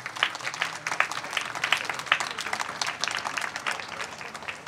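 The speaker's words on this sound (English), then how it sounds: "That's the standard applause for contemporary music." Audience applause at a contemporary music performance: a dense, steady wash of many hands clapping at once, sustained for several seconds at moderate loudness.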